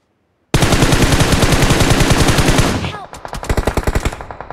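A long, loud burst of rapid automatic gunfire in a mobile shooter game, very close and unbroken for about two seconds, then slower separate shots fading out.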